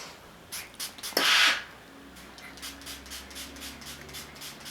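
A short burst of hissing starch spray onto polyester trousers, sharp and close, among light tapping and rustling sounds in a quiet room.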